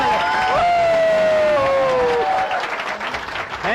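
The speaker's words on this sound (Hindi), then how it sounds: "तालियां जोरदार।" A large audience at a home-business award event gives loud, sustained applause, with clapping and some cheering. A brief whistle-like tone rises above it early on, and the applause fades slightly toward the end.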